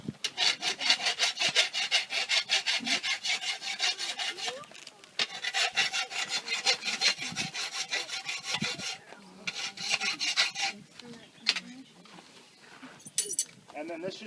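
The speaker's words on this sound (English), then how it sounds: "So I'm going to take the little excess steel off the back." A farrier at a Cub Scout demonstration files excess steel off the back of a horseshoe, making long, loud, rhythmic rasping strokes with short pauses and occasional metallic clinks, while someone talks faintly in between.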